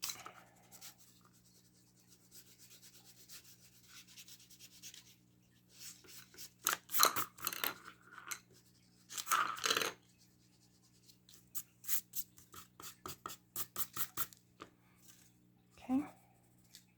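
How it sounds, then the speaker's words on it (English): An eraser rubs out pencil marks on paper in a ribbon-and-gem craft session, giving a run of short, close scratchy strokes in uneven bursts, quiet overall, with faint background hum and no talk. "Probably should have used the eraser first to erase the pencil marks."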